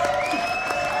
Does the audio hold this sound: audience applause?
yes